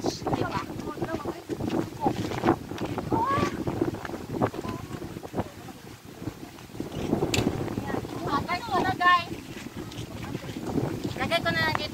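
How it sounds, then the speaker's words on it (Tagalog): Strong wind buffets the microphone outdoors near the water, a continuous low roar with gusty swells, while people talk intermittently underneath. "Grabing hangin, no?"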